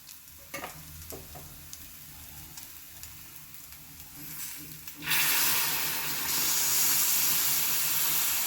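Milk poured into hot moong dal halwa in a pan sets off a sudden loud, steady sizzling hiss that follows quieter stirring sounds.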